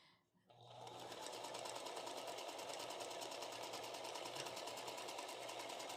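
A sewing machine runs steadily while stitching a quilt, a rapid even chatter of needle strokes that starts after a brief pause and carries on without a break, close and clear.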